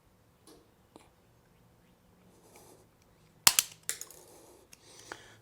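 Plastic tab on an Evo 9 rear bumper being cut off, giving a couple of sharp, close snapping clicks and short crunches after a quiet stretch, with faint handling noises around them.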